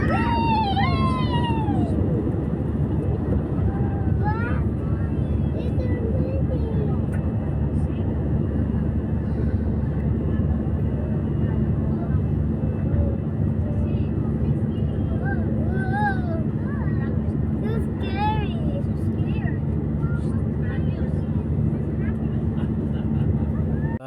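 An airplane taking off gives a loud, steady engine roar throughout, heard from inside the cabin, while children and other voices talk and shout over it.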